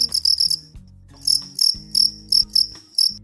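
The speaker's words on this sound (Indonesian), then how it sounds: "itu adalah hewan jangkrik" Cricket chirping played as a recorded animal sound for a children's guessing game: sharp, high, rapid trilling bursts in a regular pulsing rhythm, loud and close, with low background tones and no talk.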